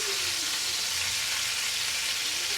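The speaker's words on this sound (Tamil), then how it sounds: "சும்மா ஒரு ஷாலோவாக ஃப்ரை பண்ணிக்கலாம்" Biryani ingredients shallow frying in a pan give off a steady, dense sizzle, loud and close, continuous throughout with no talking.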